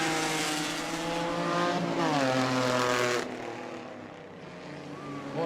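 Race cars roaring around the New Smyrna track during the Armadillo Enduro 100, loud droning engines passing close with shifting pitch, with an announcer talking over them.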